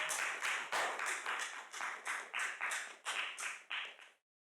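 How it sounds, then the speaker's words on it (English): Audience applause at a county board of commissioners meeting: a burst of about a dozen rhythmic clapping pulses, fairly close and lively, fading into silence at the end. "we don't do cheering sections, but thanks"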